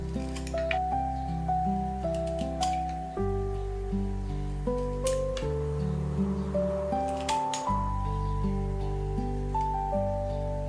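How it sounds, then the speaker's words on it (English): Kitchen scissors snip the toenails off raw chicken feet, giving a series of sharp, irregular clicks and cuts over steady background music. "trim off each toenail with kitchen scissors"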